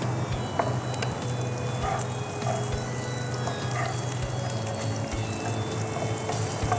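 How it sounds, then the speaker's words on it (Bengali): Onions frying in oil with bay leaf and cinnamon make a continuous, even sizzle and crackle, close and moderately quiet, with small pops scattered throughout and no talk. "পেঁয়াজটা মোটামুটি লাল হচ্ছে, এর মধ্যে আমি আদা রসুন দিয়ে দিব।"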